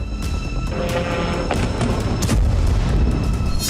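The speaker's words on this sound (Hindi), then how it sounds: "तभी रूस के गेरान ड्रोन से भीषण धमाका हुआ।" A heavy Russian Geran drone strike explosion in Kyiv booms through a dense, rumbling roar, with sharp cracks and debris-like crackle continuing throughout, no voices.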